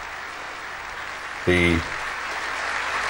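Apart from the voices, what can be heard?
applause after the Chief Executive's speech at the Hong Kong handover ceremony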